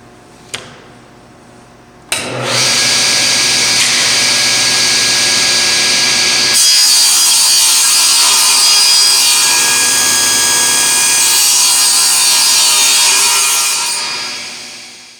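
A table saw rips a board along the fence, the motor spinning up with a brief knock and then a loud, steady whining cut that holds for about twelve seconds before winding down.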